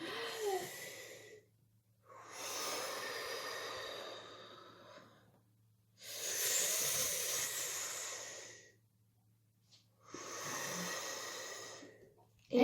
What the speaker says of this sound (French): Vous pouvez prendre des grandes respirations pendant ce temps-là.